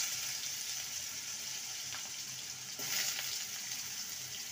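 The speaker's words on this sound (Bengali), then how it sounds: "আলুটাকে ভেজে নেব।" Small potato pieces frying in a pan, a steady close hiss and sizzle with faint crackles, no talking.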